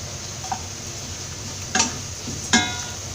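Onions with curry leaves and turmeric sautéing in a pan: a steady low sizzle under a few brief clinks and scrapes of a stirring spoon against the pan.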